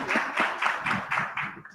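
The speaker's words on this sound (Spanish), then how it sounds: "Un aplauso para la doctora Rutilia." Applause for a speaker at an education panel comes across as a small, close group clapping in quick rhythmic bursts that fade near the end.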